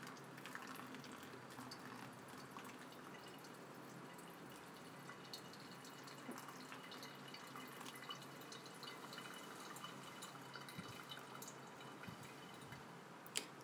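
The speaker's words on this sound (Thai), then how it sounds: "ค่อยๆให้เขาหยดลงไปนะคะ" Hot water dripping slowly through tea leaves while brewing Thai lime tea gives a faint, steady trickle with scattered soft drips over quiet background hiss.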